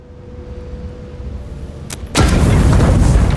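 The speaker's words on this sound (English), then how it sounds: "so I'm going to have to use a grenade" Grenade blast in the video game Avowed: a quiet ambient bed with a faint tone, a brief click, then a sudden loud, close boom that settles into a sustained crackling roar.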